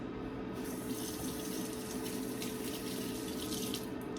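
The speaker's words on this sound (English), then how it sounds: "let me wash my hands" Tap water runs steadily into a kitchen sink while hands are washed, a continuous close splashing flow that lasts throughout without pause.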